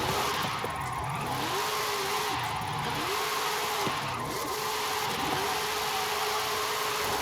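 A Knight Rider show car drifting in Forza Horizon 5, its engine droning steadily and rising and falling in repeated revving surges over a constant hiss of tire and road noise, with no talking.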